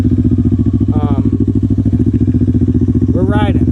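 A motorcycle engine runs steady and loud throughout as the rider clutches up, with two brief rising revs, and no other sound is heard over it.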